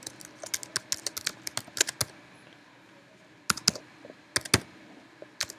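Rapid bursts of computer keyboard typing during calibration code adjustments, sharp clustered key clicks in two runs split by a short pause, close and fairly quiet, with no talking.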